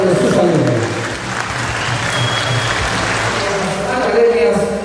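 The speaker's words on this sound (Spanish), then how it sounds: "Fuerte el aplauso para todos los que nos están acompañando esta noche" Audience applause at an annual international dance festival held by a folk dance academy, a dense, loud wash of clapping that keeps going steadily with a swell near the end, with crowd noise mixed in.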